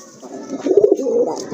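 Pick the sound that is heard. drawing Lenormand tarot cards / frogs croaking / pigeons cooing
pigeons cooing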